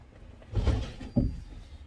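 A blocked door is forced open indoors with two muffled knocks or thuds, the second sharper, each followed by a brief rattle, fairly quiet and close.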